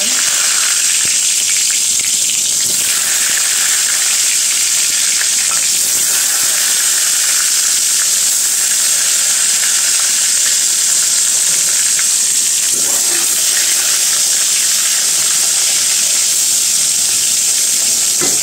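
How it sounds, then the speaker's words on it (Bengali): Eggplant pieces frying in hot oil in a wok, a loud, steady sizzle that stays continuous and close throughout, with no talking over it. "আগে বেগুনগুলো ভেজে নিই"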